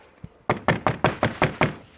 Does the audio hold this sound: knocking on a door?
yes